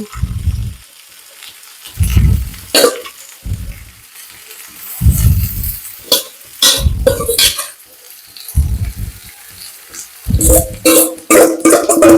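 Shredded cabbage dropped into a hot pan with popped mustard seeds for cabbage thoran, giving repeated bursts of sizzling and stirring scrapes with short quiet gaps between them.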